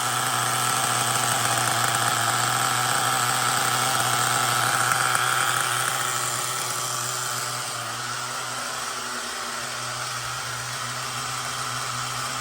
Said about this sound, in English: So far the engine sounds okay.